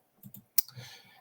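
A mouse clicks on an on-screen button, giving a few quiet, sharp clicks with one crisper snap in the middle, close and isolated with no talking.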